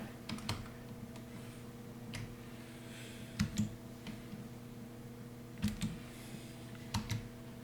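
Sparse keystrokes on a computer keyboard, scattered singles and pairs of quiet clicks over a faint steady hum.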